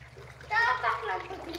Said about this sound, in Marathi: हर्षू एवढा स्ट्रॉंग आहे ना, अजिबात घाबरत नाही पोहायला.